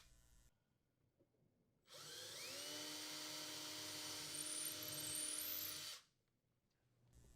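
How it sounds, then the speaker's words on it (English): An electric drill with a 1/8 inch bit whirs up to speed after a moment of quiet, runs steadily for about four seconds with a rising whine, then spins down. "Using a 1/8 inch diameter drill bit, drill the holes where marked."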